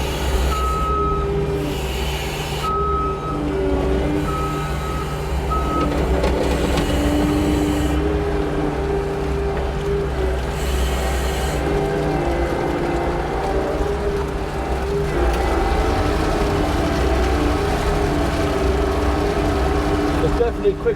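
A New Holland L318 skid steer drives and works with a steady, loud diesel drone and hydraulic whine throughout. Intermittent beeps and clanks sound over it, and a voice speaks at times.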